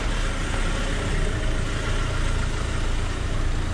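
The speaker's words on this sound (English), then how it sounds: "let's wait for the cars to pass" Cars passing on a rainy city street in Salerno, Italy, a steady broad hiss of tires on wet pavement mixed with low engine rumble, continuous and fairly loud with no voices.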